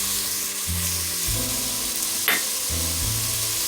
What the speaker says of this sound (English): now we're going to add our minced garlic and also our oregano.